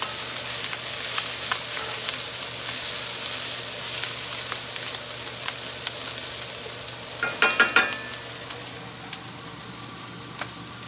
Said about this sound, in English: And I have some onions and some peppers, and this is all cooking up in my skillet.